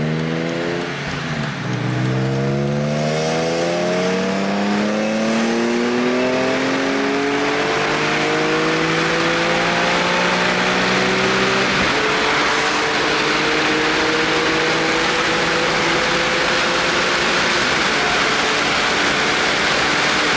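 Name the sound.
BMW E46 M3 driving with SMG transmission shifting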